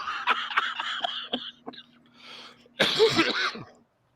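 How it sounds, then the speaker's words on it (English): Several short, sharp coughs in a row, then a pause and one louder, harsher cough burst, close to the listener. "I've been coughing so much that every time I cough right now, it hurts"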